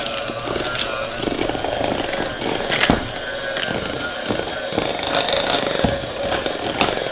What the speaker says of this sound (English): we're going to use our mixer to mix all of this wonderful deliciousness together